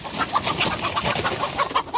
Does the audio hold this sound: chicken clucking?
yes